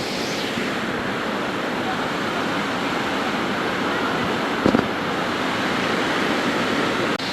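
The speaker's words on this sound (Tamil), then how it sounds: "இங்காலையும் ஓடுது பாருங்க அந்த அருவியில் தண்ணி." Water runs down a waterfall in a steady, loud, broadband rush that stays constant throughout, with a brief knock partway through.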